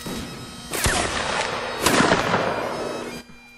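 Gunfire in a video game with guardsmen on foot: two loud volleys crack close by about a second apart, each trailing into a rumbling, crackling decay.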